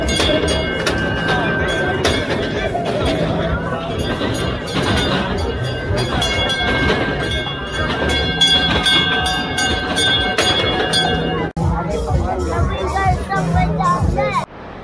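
Small funfair trains circle steadily close by, a continuous rattling, clattering ride with bright tonal whines, mixed with crowd chatter and voices throughout.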